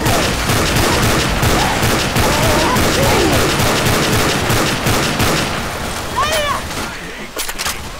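Video game gunfire: dense, continuous rapid volleys of shots, loud and close, with shouting voices over the battle and a few sharper bursts near the end.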